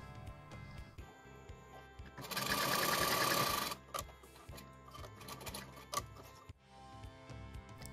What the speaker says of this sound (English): We sew it a bit more than our cut mark end.